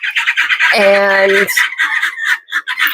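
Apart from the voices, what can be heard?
gosling squawking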